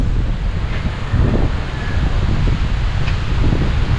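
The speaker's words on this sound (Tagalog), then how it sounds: "Grabe, ang lakas ng hangin." Strong wind blows at a beach, a constant loud roar and buffeting against the microphone, with a faint wash of surf underneath.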